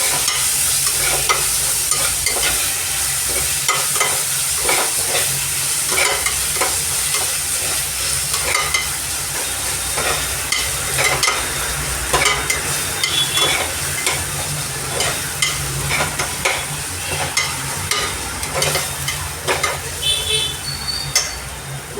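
Mint and green chillies sauté in a pan with a continuous close sizzle, broken by frequent scraping and clattering strokes of stirring throughout.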